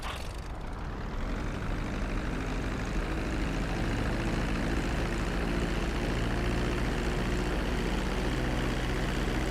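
A passenger plane in Grand Theft Auto V drones on its landing approach with a steady, loud engine roar that holds a constant pitch from start to finish, with no voices.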